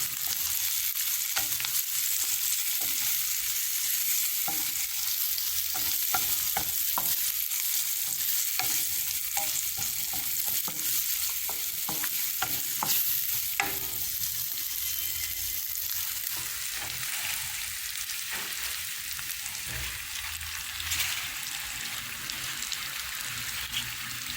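Tofu curry with coriander powder frying in a pan, with a continuous close sizzle and frequent scraping, clicking stirring strokes throughout.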